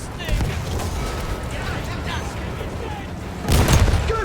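A field gun fires in the World War I shooter Battlefield 1: a dense, rumbling battle din under the whole stretch ends in a loud, close boom near the end.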